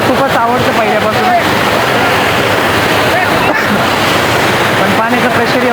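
Water from the brim-full Bhushi Dam at Lonavala gushes over in monsoon flow, a loud, continuous rushing roar close by, with people's voices and splashing mixed in.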